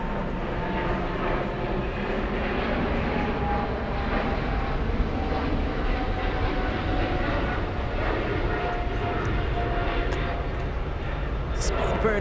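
A British Airways jet departs runway 4 Left at JFK, its engines a broad, steady distant roar that keeps going throughout while people talk over it.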